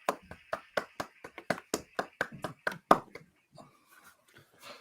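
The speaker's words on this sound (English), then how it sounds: "clapping." Roughly a dozen crisp hand claps from a built-in soundboard effect ring out in a steady rhythm, close and fairly loud, then stop, leaving a faint voice and quiet murmurs.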